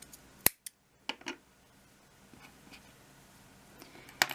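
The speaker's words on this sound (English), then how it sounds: "and cut your yarn" Scissors snipping crochet yarn at the end of a square: a few short, sharp close-up cuts and rustles spaced irregularly in a quiet room, with no speech.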